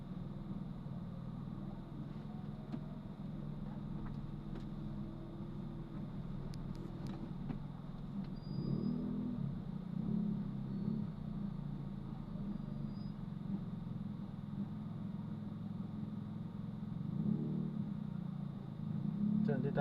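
Traffic in a heavy jam on a road in Caloocan, with cars and motorcycles: a steady low engine rumble and idling hum, swelling at times as vehicles creep forward, while a person talks over it.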